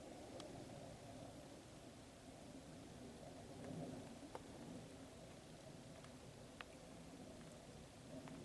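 Rain falls as a steady hiss outdoors with a low rumble of thunder swelling in the middle and a few faint clicks, quiet and distant throughout.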